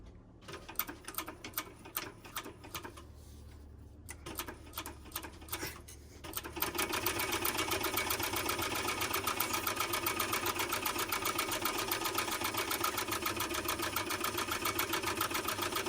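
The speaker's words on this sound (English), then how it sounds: "Flip it over and sew from the vinyl side." A sewing machine stitches a vinyl pouch, sewn from the vinyl side. After a few quiet seconds of handling it runs steadily with a fast, even, close-up stitching chatter until the end.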